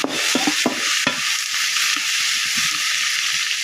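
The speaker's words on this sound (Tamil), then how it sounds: "நல்லா வதங்கட்டும்" Eggplant and onion sizzle and crackle in a hot pan, with a steady hiss and occasional scraping stirs of a utensil against the pan.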